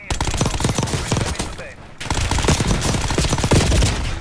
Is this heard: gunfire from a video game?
yes